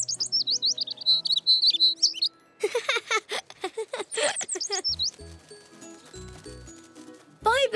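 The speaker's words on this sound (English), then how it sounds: "Bye, baby bird." A cartoon baby bird chirps in bright, quick bursts, with cartoon voices talking over and between the high tweets and some light clip-clop-like knocks near the end.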